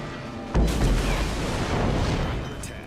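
Dive bombers from the Shokaku aircraft carrier drop bombs in World of Warships, setting off a single heavy, booming impact that rolls into a sustained rumbling roar and slowly fades.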